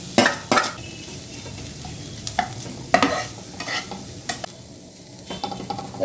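A spatula scrapes and stirs a grated egg filling with onion, ginger, garlic and spices in a frying pan, sharp irregular clacks over a soft sizzle, with no talking.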